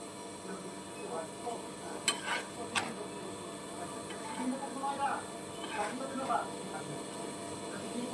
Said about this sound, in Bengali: পরোটা সাইডগুলো একটু চেপে চেপে দিচ্ছি যাতে সাইডগুলো খুব ভালোভাবে ভাজা হয়